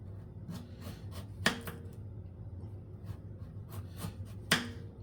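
A knife chopping Jamaican cooking ingredients on a cutting board: a steady run of soft, close taps with two sharper, louder knocks, and no talking.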